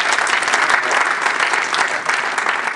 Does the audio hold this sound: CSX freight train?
no